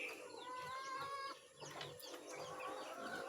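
Pet chickens in their coops cluck and call in short, overlapping bursts, fairly quiet and close, with no talking over them.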